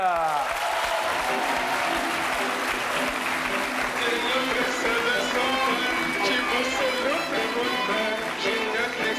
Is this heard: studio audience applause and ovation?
yes